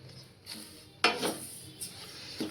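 Flaxseeds roasting in a pan, with soft scraping and stirring clatter of a utensil against the pan, a sharper scrape near the middle and a few lighter knocks, close and moderately quiet.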